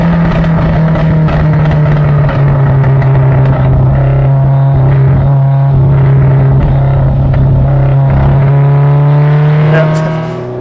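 A carbureted Ferrari 308 GTB engine, loud and close, holding a steady rumbling drone with burbling pulses and rising revs throughout, continuous without pause.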